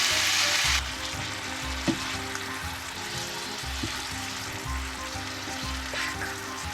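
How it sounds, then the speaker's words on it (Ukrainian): Steady sizzling and bubbling from green beans and mushrooms stewing with soy sauce in a pan on the heat, close and continuous, with a few faint clinks of a utensil. "Додаємо соєвий соус і тушкуємо ще 5 хвилин."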